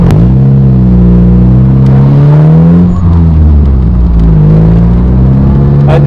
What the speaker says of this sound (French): La sonorité de l'échappement, c'est impressionnant.